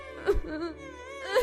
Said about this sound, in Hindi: इस घने जंगल में कौन रो रहा है?